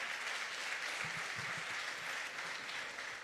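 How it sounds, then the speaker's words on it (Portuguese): Congregation in a church applauding a pastor, a dense steady wash of clapping held at even loudness throughout with a few faint voices underneath. "Aplauda o Senhor Jesus na vida do pastor Almir."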